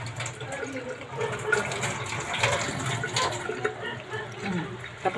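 A tap runs steadily while hands are washed, with splashing water at close range and voices talking over it.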